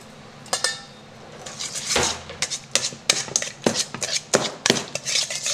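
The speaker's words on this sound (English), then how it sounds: "just mix in. If you have a whisk, that works better" A whisk beating ingredients in a bowl, fast rattling clinks of metal against the bowl in irregular bursts, close and fairly loud.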